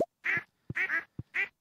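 Ducks quack in the farming game Stardew Valley: three clear, nasal double-quacks at a steady pace, each preceded by a short low thump, close and loud against silence.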